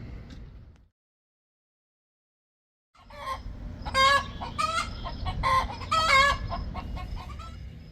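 A broody hen clucks and calls repeatedly in a backyard coop after a cold-bath treatment, loud and close. The calls come in bursts over steady rustling and low background noise, following a short silence.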